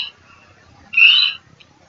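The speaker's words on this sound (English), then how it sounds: "this white kiwi bird, which I got from the museum, which makes a very good kiwi sound" A toy kiwi bird gives a single shrill, rising whistle-like call lasting about half a second, clear and close, with a faint chirp after.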